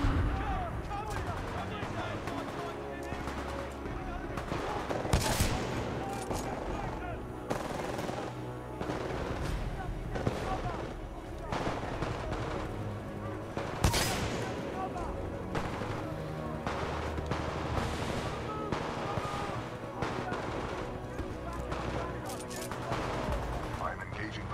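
Supporting gunfire in Titanfall 2 comes as continuous bursts of automatic fire mixed with heavier, booming shots that keep overlapping. Voices occasionally speak over the din.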